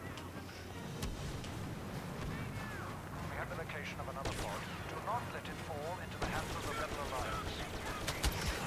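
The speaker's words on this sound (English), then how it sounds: "Lob a grenade out right there." Rapid gunfire and a grenade blast in the Star Wars Battlefront video game, a dense, continuous barrage of shots and explosions with layered battlefield noise throughout.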